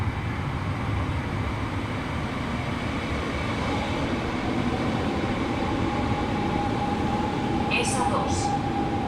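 An FGC commuter train on the S2 line at Sabadell Nord station: a steady low rumble of rolling stock filling the platform, with a brief high squeal near the end.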